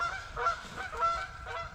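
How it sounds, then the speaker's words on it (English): Several geese honk in short, repeated bursts, moderately close, with no talking. "Well, we made the geese mad,"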